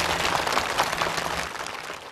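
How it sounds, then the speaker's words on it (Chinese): Studio audience at a children's school quiz show giving a short, dense burst of clapping that fades slightly toward the end. "来，掌声鼓励一下。"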